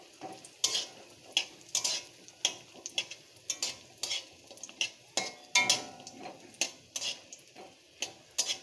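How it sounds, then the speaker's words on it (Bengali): Lentil badi (dal vadi) frying in hot mustard oil for a banana-stem dish, a steady close sizzle broken by repeated sharp clinks and scrapes of a utensil turning them in the pan, alone without talk. "আমি এখন এই ডালের বড়িগুলো লাল লাল করে ভেজে নেব।"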